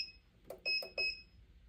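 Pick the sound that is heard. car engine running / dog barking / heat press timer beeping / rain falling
heat press timer beeping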